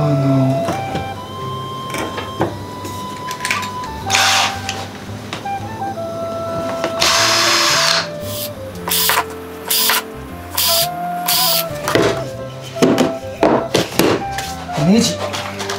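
A power driver fastens screws into a homemade light for concerts, giving several short whirring bursts mixed with clunks and handling knocks, close by, with a person talking in between.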